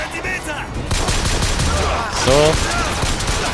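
Pistol shots ring out in the first-person shooter Bioshock Infinite as a rapid burst of sharp reports, mixed with other game sounds and someone speaking German briefly over the action.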